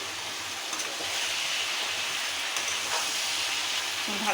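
Chicken kosa sautéing in a pan with chilli powder and garam masala, a steady broad hiss of frying that holds evenly throughout, with no talking.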